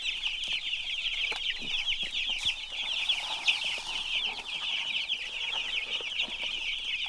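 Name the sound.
chickens clucking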